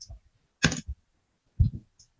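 A few sparse clicks from a computer keyboard as a web address is typed, quiet and separated by short pauses with near silence between them.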